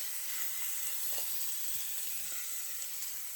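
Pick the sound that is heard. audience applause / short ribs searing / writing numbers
short ribs searing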